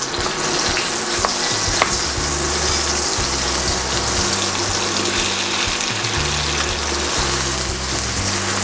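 Garlic frying in hot oil for a dish of string beans and squash in coconut milk: a loud, steady sizzle that stays constant, with a few small clicks of stirring and no talking.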